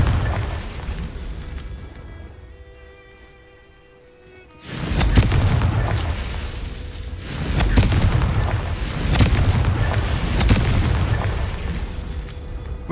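Confringo fire-blast spells go off in Hogwarts Legacy, with deep booming blasts rolling out after a quieter stretch, each followed by long rumbling swells of fiery noise.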